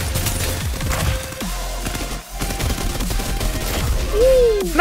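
Bursts of gunfire in the Farlight 84 mobile battle royale game, with rapid repeated shots running nearly continuously and loud, amid other game effects and a rising whine near the end.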